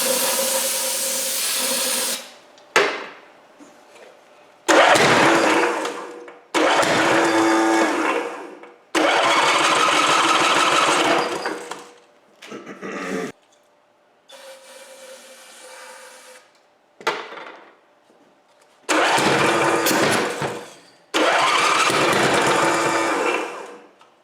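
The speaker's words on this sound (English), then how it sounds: "We'll just do kind of a test start with a little bit of carburetor cleaner just to see if it'll hit" A Briggs & Stratton 7HP Model 17 small engine, freshly rebuilt and primed with carburetor cleaner, cranks in repeated loud bursts of whirring with short silent gaps between pulls.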